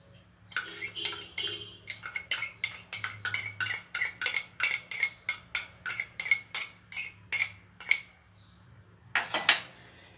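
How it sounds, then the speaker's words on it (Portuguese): Spoon or utensil stirring pepper sauce ingredients, including pickled chili peppers, in a bowl: a steady run of close, rhythmic clinks and scrapes against the dish, ending in a brief louder clatter. "vamos estar misturando esses ingredientes aqui"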